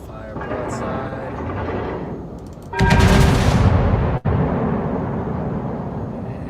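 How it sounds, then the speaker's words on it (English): Naval broadside from a warship in the video game World of Warships, a loud booming salvo that swells into a sustained roar of gunfire with a brief sharp dropout, over a steady battle rumble. "Fire broadside."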